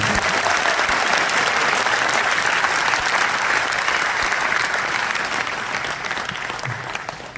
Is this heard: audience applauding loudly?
yes